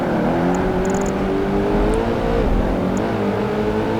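A Koenigsegg engine from the Xbox racing game Project Gotham Racing 2 drones loud and steady, its pitch rising and easing slightly as the car holds speed, alone with no talk.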